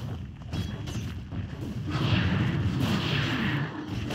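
Combat sounds from an assault on the Dire middle tower in Dota 2: a steady stream of muffled impacts and booming blasts that grows heavier and denser partway through, with no voices.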